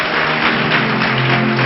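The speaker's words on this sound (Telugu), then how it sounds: "ఒకసారి చప్పట్లు కొడదామా?" A church congregation claps together, a dense, loud, continuous burst of many hands close by, with no talking over it.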